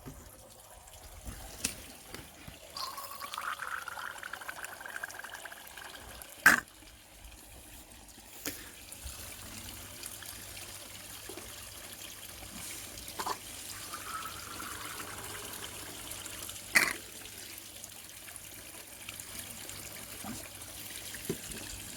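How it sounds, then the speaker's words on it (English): Water trickling and pouring into a garden fish pond being topped up, a faint continuous flow with a few sharp knocks and splashes scattered through it, heard alone outdoors. "and then get the water topped up."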